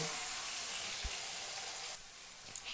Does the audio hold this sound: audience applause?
no